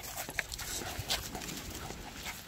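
A pug and another dog pant and give small whimpers on an outdoor walk near a lake beach, with brief scuffs and clicks of movement close by.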